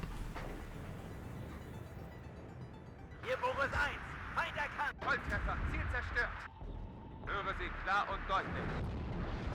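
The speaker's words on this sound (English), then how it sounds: "More artillery on the way." Artillery fire in the war game Bruderkrieg PACT: a run of heavy, booming blasts and rumbling impacts that crowd together in the middle of the stretch, with speech-like sounds mixed among them.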